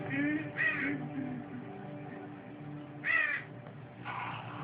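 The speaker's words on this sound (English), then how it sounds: "A crow lands on his cross." A crow caws twice over a steady low hum of background noise, with harsh bursts near the start and again around three seconds, then a fainter third call near the end.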